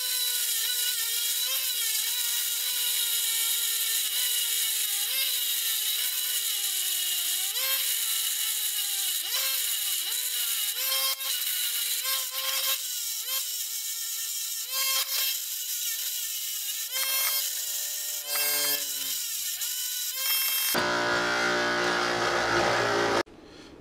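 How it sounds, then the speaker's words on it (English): A bench grinder grinds down the head of a steel bolt in a trailer-hitch build, its steady high whine rising and dipping as the metal is pressed against the wheel, loud and continuous, then a harsh burst of noise at the end. "So I'm just gonna use this bench grinder to get that"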